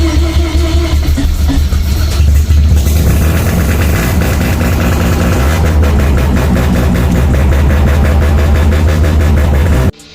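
A Toyota Altezza with a 13B turbo rotary engine, recorded up close in a garage, runs loud and continuous with a dense rotary drone and rising revs throughout, cutting off abruptly at the end.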